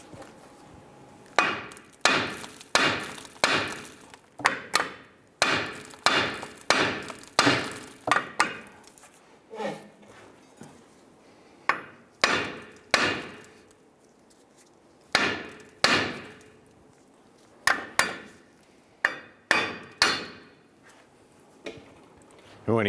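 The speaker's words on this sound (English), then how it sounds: "I'm going to use a hammer and I'm going to strike the front side of the knuckle while applying upward pressure to release this" A hammer repeatedly strikes the steering knuckle of a 1995-2001 Ford Explorer during front CV axle replacement, delivering sharp metallic blows in quick bursts of several hits separated by short pauses.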